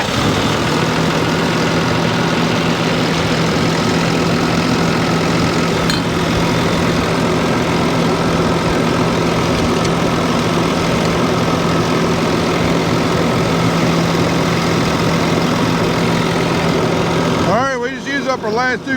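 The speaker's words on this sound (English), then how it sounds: "turn the tractor on with the AC on full blast" A tractor engine idles with its air conditioning on full, a steady, low rumble throughout, loud and close, with a brief clatter near the end.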